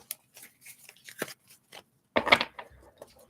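Tarot cards being shuffled by hand in quiet, ASMR-style close miking: scattered soft riffles and taps, then one louder, crisp burst of card rustle near the end.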